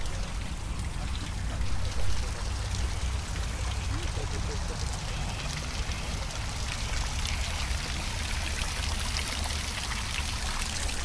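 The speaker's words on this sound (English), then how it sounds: "Let's get a view of this delightful fountain in the sun." Water splashes and trickles continuously in an outdoor drinking fountain in a sunny park setting, a steady close wash of sound with a brief louder splash early on.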